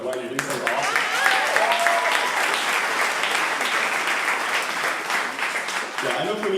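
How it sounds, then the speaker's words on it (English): A crowd claps steadily and energetically through the whole stretch, dense applause filling the room from start to finish, with a voice speaking briefly at the beginning and another coming in near the end. "let's get another round of applause for Dwight."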